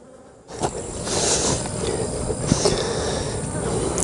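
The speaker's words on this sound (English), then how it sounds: "We're going to go ahead and hive this little swarm of bees, place them in a 5-frame nuke." A small swarm of honey bees being hived into a five-frame nucleus box outdoors, giving a steady close buzzing hum that starts after a quiet half second and continues evenly throughout.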